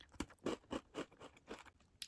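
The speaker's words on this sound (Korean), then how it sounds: "자색 고구마 요 베이스는 파삭하게 씹히는데 토핑이 되게 바삭바삭하게 씹혀요." A crunchy purple sweet potato vegan cookie with crisp topping is chewed close up, a quiet series of about eight rhythmic crunching bites.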